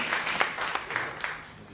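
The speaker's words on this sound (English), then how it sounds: "Yes, a round of applause." A short burst of audience applause at a social enterprise summit speech, scattered hand claps from a modest crowd, fairly close and fading within two seconds.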